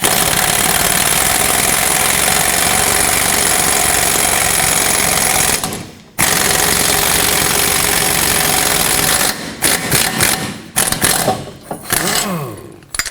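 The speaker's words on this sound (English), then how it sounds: "Take the nut off now." A power impact tool buzzes steadily and loudly, close by, while removing a nut from the rear upper control arm bolt of a 2005-2010 Pontiac G6, with a brief pause midway and choppy bursts near the end.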